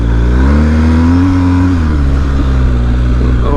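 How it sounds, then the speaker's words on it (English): A BMW R 1250 GS motorcycle engine in Dynamic mode is blipped, the boxer note rising in a loud rev that peaks and falls back toward idle, close and steady with no talk. "Let's give it a bit of a blip."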